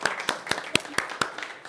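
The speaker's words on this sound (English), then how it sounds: "round of applause for Brenda" A small audience at a real estate market update gives a quiet, sparse round of applause, with a handful of distinct claps spaced out over a moment.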